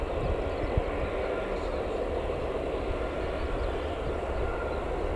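A Titan Airways airliner flying for TUI runs its engines at Newcastle Airport, a steady broad roar that holds evenly throughout with no clear rise or fade.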